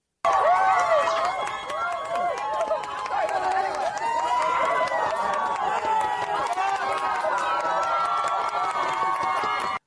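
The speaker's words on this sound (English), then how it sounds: "here's people cheering an assassin" A crowd cheers loudly outdoors as charges are dropped against an accused assassin, with sustained shouting and whooping voices, scattered claps and a dense, continuous roar.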